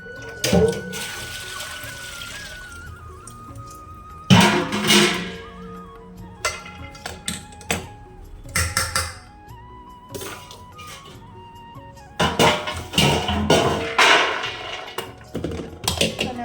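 Noodles drained from hot water into a strainer while making Chinese bhel at home: several loud bursts of pouring and splashing water, separated by quieter pauses, with no talk.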